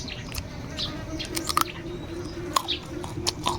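A crunchy, slightly astringent fig-like vegetable is chewed as a side with Vietnamese duck eggs, close crisp bites and soft chewing in a quiet outdoor setting, with birds chirping faintly in the background.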